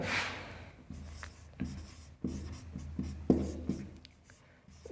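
A pen or marker writes out a coordinate geometry maths problem by hand, making a string of short scratchy strokes and taps at an uneven pace, close and quiet, with no talk.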